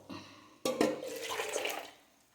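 Ginger cardamom tea poured back and forth between cups to cool it in a Kerala home kitchen, a sudden splash followed by a steady liquid stream that tapers off over about two seconds.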